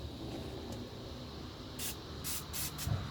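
Anti-corrosion spray hisses onto wiring for a trolling motor plug in several short bursts, each a second or less, over a faint background.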